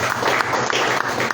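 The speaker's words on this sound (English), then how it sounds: "a round of applause for our panelists." An audience at an open panel conversation on Aruba gives the panelists a round of applause, dense, sustained clapping, loud and close, with no speech over it.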